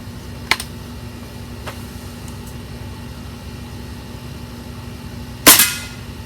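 Diana RWS 48 .22 air rifle fires one sharp, loud crack near the end, with a faint click earlier, against quiet background hiss.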